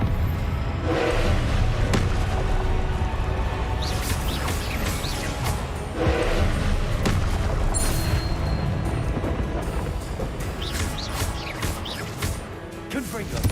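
Repeated blasting-spell explosions in Hogwarts Legacy on PS5, several booming impacts spaced a couple of seconds apart, mixed with spell effects and a voice speaking over the action.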